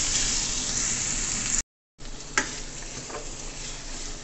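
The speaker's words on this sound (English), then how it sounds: "Now I'm going to add the tomato, and then I'm going to add the scallion" Tomato and scallion sizzle in a hot pan for curry salt fish, giving a steady close crackling hiss broken by a short silent gap, with a few stirring clinks once it resumes.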